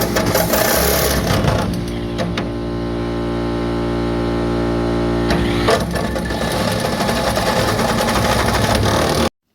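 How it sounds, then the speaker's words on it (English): An angle grinder with a diamond cutting wheel cuts through the inner wheelhouse of a 1971 Chevy El Camino, giving a loud, steady, high whine whose pitch dips and rises as the load changes before it stops abruptly. "you can't ever go wrong with a grinder and a good diamond cutting wheel."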